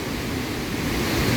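Victoria Falls waterfall, a steady loud broadband roar of falling water with a rushing, wind-like wash and no other sounds.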